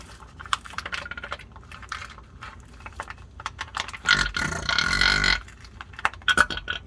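Gear oil gurgles and sputters out of the rear differential of a Ram 1500 in uneven wet bursts. The loudest, burp-like glugs come near the end, mixed with faint clicking handling noises.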